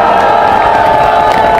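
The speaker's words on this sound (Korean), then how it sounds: "두 분께 힘찬 박수 부탁드립니다." A large audience at a memorial concert claps and cheers in a dense, steady roar that stays loud and unbroken throughout.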